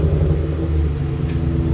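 A 2014 Ford F-150 Lariat with a flex-fuel V8, Flowmaster Super 10 exhaust and resonator deleted, idling with a deep, steady low rumble. The exhaust is loud and close and stays even throughout the short stretch, with no voices.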